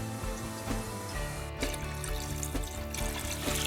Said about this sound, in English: simply toss the works into a pot, cover with lots of water